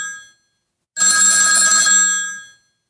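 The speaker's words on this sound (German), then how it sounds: "Jetzt klingelt das Telefon." A telephone rings once in a home office, a single loud electronic ring lasting about a second and a half before cutting off, with no talk over it.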